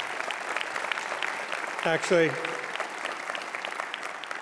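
Audience applause at a ceremony fills the whole stretch as a steady, dense clapping, with a single spoken word from a speaker breaking in briefly midway.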